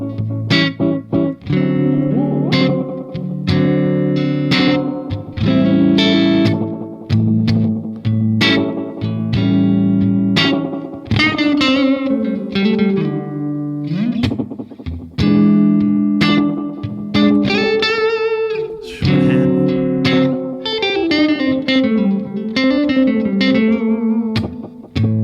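An electric guitar plays a 12-bar blues through a Strymon Olivera oil can delay set to slapback, with loud, continuous picked notes and chords, each trailed by a short echo and some grit.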